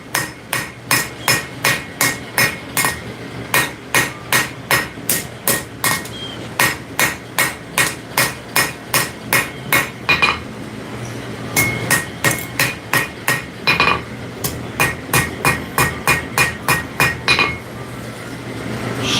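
Hammer planishing hot metal on an anvil during forging, a long run of sharp ringing strikes in a quick, even rhythm, broken by a few short pauses, loud and close with no voices.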